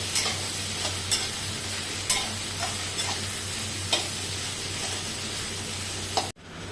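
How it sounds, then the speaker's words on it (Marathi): Okra (bhindi) stir-fries in oil, a steady sizzle with periodic light scrapes of a spoon against the pan, ending in a sudden brief cut. "भेंडी ना छान अशी तेलामध्ये परतवून घेतली आपण"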